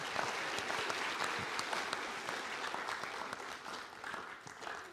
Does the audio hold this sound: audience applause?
yes